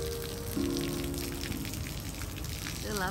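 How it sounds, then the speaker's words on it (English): Fresh spring water flows down from a hillside in Guyana's interior, a steady gushing splash close by, with a low tonal hum and brief voice-like sounds near the end. "Wow, fresh spring water coming from up here."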